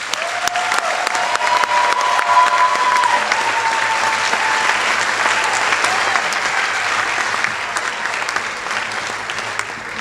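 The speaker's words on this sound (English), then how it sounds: "Please show our appreciation, all the mentors and these that are awardees." Sustained audience applause at a graduation commencement ceremony honoring mentors and awardees, a steady dense clapping that stays loud for about ten seconds before easing slightly.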